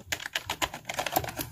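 Rapid typing on a cheap $10 gaming keyboard with a loose space bar, a steady patter of close plastic key clicks and clacks with no voices.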